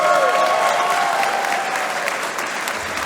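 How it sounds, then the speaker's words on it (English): A wrestling crowd at a live show applauds steadily and loudly, a dense wash of clapping with some cheering that holds for about three seconds and eases only slightly toward the end. "Keep that applause going, please."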